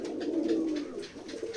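Pigeons at a village pigeon farm in Betikhola, Keshabpur, Jessore, giving a few close, soft throaty coos in a short continuous run.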